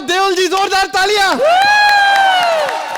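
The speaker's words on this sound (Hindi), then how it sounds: "जोरदार तालियां" Studio audience on a Hindi comedy show cheering and whooping loudly, with excited shouts and a host's voice rising over the crowd noise for a few seconds.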